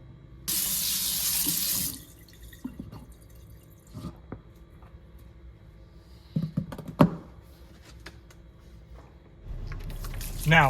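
Polishing pads rinsed under a running sink tap: a steady stream of water pours for a couple of seconds, then gives way to quieter squishing and dripping, before the flow starts again near the end.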